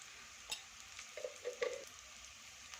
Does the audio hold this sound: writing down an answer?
no